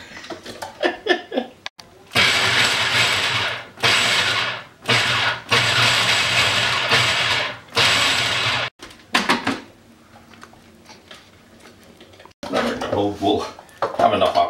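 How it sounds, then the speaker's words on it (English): A food processor chopping a load of cabbage while making pagachi runs in loud, steady bursts of motor whirring and blade rattle, starting and stopping several times, with short talk in between. "loading up the food processor with cabbage"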